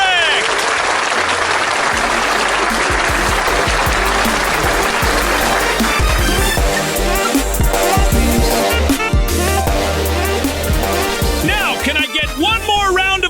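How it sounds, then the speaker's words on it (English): Sustained audience applause for a panel of tech experts at a live showdown event, dense and steady throughout, with crowd noise and a host's voice talking over it. "One more round of applause for all the panelists."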